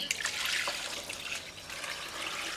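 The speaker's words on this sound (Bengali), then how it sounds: "পানিগুলো দিয়ে দেব" Clean water is poured into a guppy fish tank, a close, steady trickling splash that keeps going throughout.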